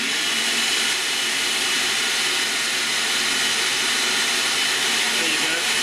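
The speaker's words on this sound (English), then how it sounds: "It's a bit small, this blender." A small kitchen blender whirs steadily while blending mint chutney, a loud, continuous high-pitched motor drone with a dense hiss that holds for several seconds without pause.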